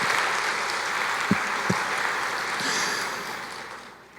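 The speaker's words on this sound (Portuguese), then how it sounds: "Uma salva de palmas para ela." Congregation applause for an elderly woman at a church gathering, a broad, even patter of many clapping hands that holds steady and then fades out near the end.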